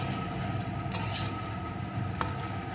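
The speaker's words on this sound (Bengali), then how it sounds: "মিশিয়ে নিলাম।" Fried gathi kochu (taro) with masoor dal sizzles gently in a pan, with a couple of brief utensil scrapes as it is stirred, steady and close, without speech.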